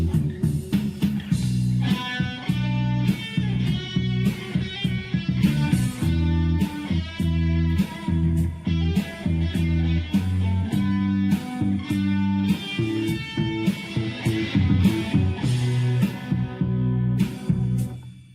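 Bass and guitars play back from a Fostex 260 multitrack cassette recorder, caught through a camera microphone in a room: a steady, dense band groove runs continuously at moderate volume with rhythmic strummed chords over a low bass line.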